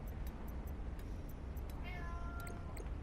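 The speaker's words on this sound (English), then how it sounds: "I got a cat yelling at me." A house cat meows insistently, a rising, drawn-out yowl heard over a steady, loud background hum.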